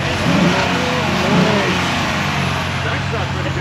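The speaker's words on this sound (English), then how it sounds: "I'm gonna hit the gas" A Toyota Mk4 Supra engine is revved with the hood up, a loud, close surge that rises and falls before settling into a rough idle, with people talking over it.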